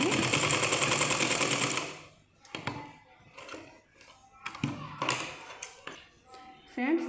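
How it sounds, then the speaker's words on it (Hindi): A sewing machine stitches fabric for a small Laddu Gopal dress, running in a loud steady whirring burst for about two seconds, then falling to scattered clicks, thumps and short bursts of handling noise. "इस तरह से दोबारा मशीन को देख करके दोबारा सिलाई लगाएंगे।"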